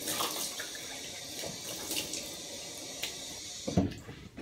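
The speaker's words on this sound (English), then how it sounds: "Cold water on the face." Cold water runs from a tap while a man splashes it onto his face during a shave, a steady close rushing stream with a brief louder splash near the end and no talk.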